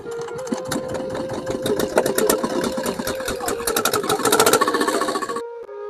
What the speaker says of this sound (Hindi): कश्ती का इंजन स्टार्ट हो चुका है, और अब कश्ती झील के बीच में चलना शुरू हो गई है।